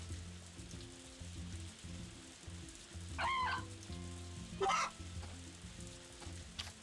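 Chickens clucking on a farm in the video game Story of Seasons: A Wonderful Life, a few short bursts standing out over steady looping game music and patter.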